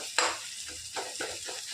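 Tomatoes simmering in a pan over a medium flame for spinach dal, giving a soft, steady sizzle broken by a few brief stirring scrapes close by.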